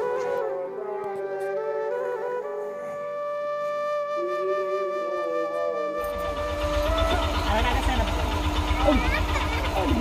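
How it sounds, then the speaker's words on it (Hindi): A municipal garbage collection truck stops outside a house in the morning. A tune plays first, then a low, rumbling diesel idle joins partway through and continues under the music. "सुबह सुबह गाड़ी वाला आया कचरा लेने के लिए"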